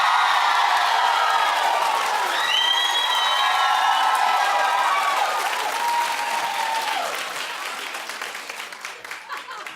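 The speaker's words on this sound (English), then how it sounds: "Keep clapping for the end of an era." Lively applause and cheering from a TV studio audience, with whoops and high-pitched shouts over the dense clapping at first, then the clapping thins and fades out toward the end.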